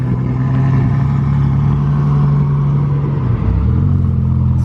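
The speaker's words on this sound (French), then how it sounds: "Je vais plutôt aller voir les Ferrari qui partent là-bas." Ferrari cars from a French rally out of the Toulouse Ferrari dealership pull away in Monaco, their engines giving a steady, close low drone that dips and rises slightly near the end.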